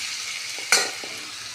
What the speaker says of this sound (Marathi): तूप थोडं गरम झालं की त्यात आपण किसलेल्या कैरीचे किस टाकून घेणार आहोत।